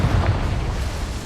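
Explosive Bombarda and Confringo spell blasts in the Hogwarts Legacy video game: a dense, low rumbling boom that stays loud and steady through the moment, with no voices.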